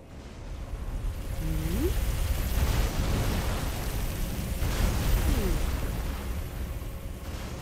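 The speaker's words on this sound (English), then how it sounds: "Try trap, and then behold, explosion!" A loud, sustained rumbling blast with crackling bursts from a trap explosion in the video game Elden Ring rolls on for several seconds, with a couple of short voice-like tones briefly rising over it.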